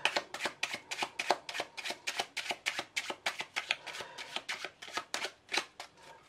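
A deck of playing cards is shuffled in a quick riffle at close range, giving a fast, steady run of crisp, rhythmic flutters with no voices over it.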